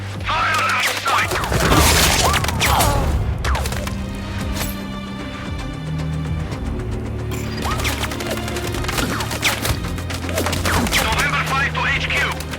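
Gunfire in the video game Sniper Ghost Warrior Contracts 2, a dense burst of crashing shots and impacts up front and again near the end, under a sustained musical drone.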